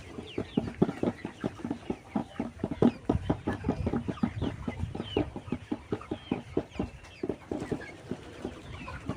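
Many layer chickens on a small home farm cluck in a busy, overlapping chorus of short, rapid calls that continue steadily, close and moderately loud, with no talking.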